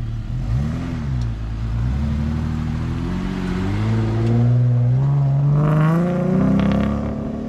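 A Jeep Wrangler engine runs while being driven after a Seafoam fuel-system treatment. It gives a steady mid-pitched drone that rises and falls smoothly as the engine revs up and eases off, close by and with no talking.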